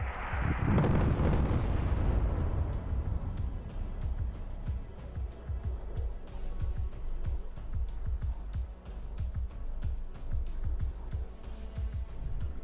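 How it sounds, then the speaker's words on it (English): Airstrike in the video game ArmA: a huge close blast opens, then a long rolling rumble of repeated explosions and thuds keeps going, loud and sustained. "the airstrikes are pretty awesome to watch them go in"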